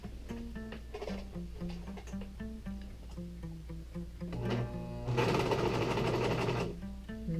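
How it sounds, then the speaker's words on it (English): A serger stitches elastic into the circular edge of a scrub cap, a steady mechanical sewing hum that swells into a louder, faster run near the end. "the elastic at the same time as serging the circular edge"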